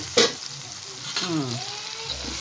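Tomato masala with ginger-garlic paste fries in a pan as a goat blood fry is cooked, a steady close sizzle with a brief sharp clatter near the start and soft stirring scrapes throughout.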